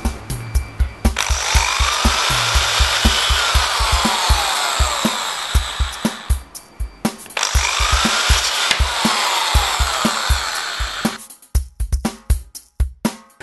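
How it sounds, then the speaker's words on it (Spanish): A 3 mm high-speed steel bit bores into MDF with two long, loud whirring runs of the drill, each broken by sharp knocks and handling clatter before and after, close up without speech. "vamos a realizar una perforación bien centrada utilizando la mecha de acero rápido"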